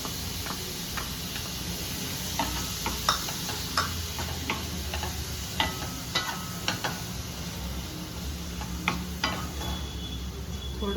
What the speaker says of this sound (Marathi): थोडं 1 मिनिट परतून घेऊयात.